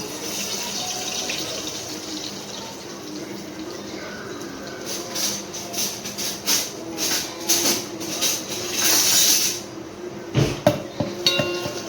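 Crushed garlic fries in hot oil for a Konkani-style sour fish curry, giving a steady broadband sizzle with louder crackling bursts near the end, alone without talk.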